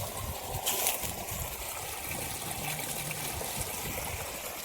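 Steady rushing water pours continuously from a motor pump on farmland, a broad noisy flow with no pauses, close by and fairly loud.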